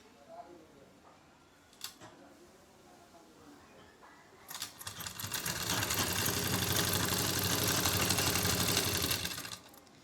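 An electric sewing machine stitching a suit's fabric strip runs in a steady, loud whir for about five seconds after a quieter stretch with a few clicks and low talk nearby.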